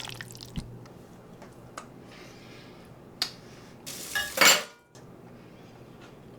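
Potatoes tipped into a bowl while making a chilled BBQ side dish: soft clinks and squishy, wet tumbling build into one short, louder clattering pour, with no talking.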